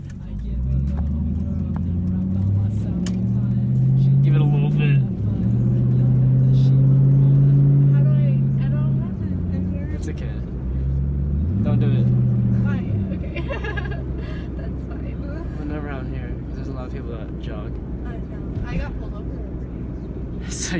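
Car on the road with a steady low engine drone and rising, falling revs, close inside the cabin, while people chat over it.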